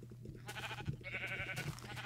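Sheep bleating in Minecraft, a couple of wavering bleats close and clear, with a steady low hum beneath and almost no speech.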